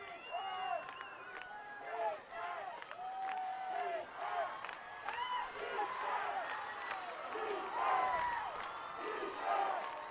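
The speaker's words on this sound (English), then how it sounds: "Crowd coming alive" A crowd at a high school football game between Orange and Yorba Linda roars and cheers, shouts and whoops rising and falling continuously, with voices mixed in the din.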